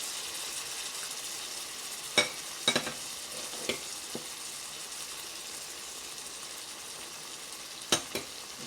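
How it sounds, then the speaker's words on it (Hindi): Whipped yogurt hits hot fried onions, giving a steady broad sizzle while a spoon stirs, with a few sharp scrapes and clicks against the pot, close by. "2 टेबल स्पून योगर्ट विप करके रखा है। अब उसको मैं इसमें डाल देती हूँ।"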